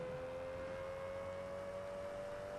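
Aston Martin DBS Superleggera engine in the racing game TDU SC, a faint steady drone holding a constant pitch throughout, like a car cruising at even revs, with no talk.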